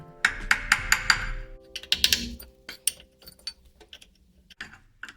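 Repeated sharp metallic taps close by, a small hammer driving a floating bushing into a BMW E39 Touring, a quick cluster of strikes followed by lighter, irregular knocks and clinks.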